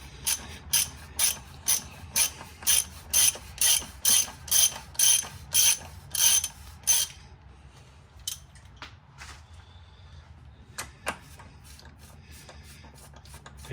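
Ratchet with a 24 mm socket loosening the oil filter canister housing on a Jeep Wrangler JKU, a close run of loud clicking ratchet strokes in bursts, then slower scattered clicks and clanks as the housing comes free.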